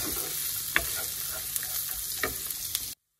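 Carrots and beans fry in a pan over a medium flame with a steady sizzle and several sharp spatula scrapes, then everything cuts to silence.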